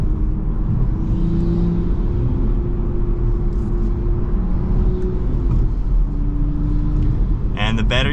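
A manual-transmission car accelerating in second gear gives a steady, low engine drone that climbs gently in pitch, heard from inside the cabin with a person talking over it.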